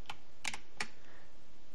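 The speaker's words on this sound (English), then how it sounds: "hitting the D key on our keyboard" Keys on a computer keyboard are struck in a few quick, light clicks: a single tap, then a quick double tap and another tap. They sound close and faint in a quiet room.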